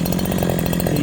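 A Holzfforma G372XP chainsaw with a modified muffler revs at high speed, a loud, raspy, continuous buzzing engine roar heard up close and alone.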